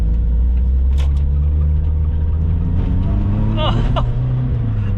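A modified Volkswagen Polo bread van engine drones loudly and steadily from inside the cabin, its pitch rising and falling slightly as it drives, with brief voices over it.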